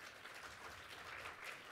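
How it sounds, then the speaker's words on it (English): An audience at the 2014 NYC Worker Cooperative Conference gives a dense, sustained round of clapping that stays steady and even throughout, with no voices over it. "could everyone just please give one more round of applause for Chris Michael"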